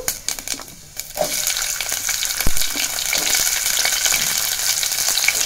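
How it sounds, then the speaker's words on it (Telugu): Finely chopped onions frying in hot oil with mustard seeds, cumin and turmeric, a steady loud sizzle close up, with a few stirring clatters early on and a brief bump partway through. "జీలకర్ర, కొంచెం పసుపు వేసేసుకొని ఇప్పుడు చిన్నగా కట్ చేసి పెట్టుకున్న ఆనియన్స్ వేసుకున్నాను."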